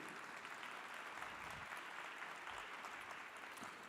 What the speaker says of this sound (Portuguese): Vamos aplaudi-lo, senhoras e senhores.